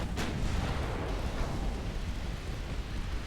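Torpedo detonation in the naval video game Ultimate Admiral Dreadnoughts: a sharp initial blast followed by a loud, sustained roaring rumble that stays heavy and broad throughout, with no talking.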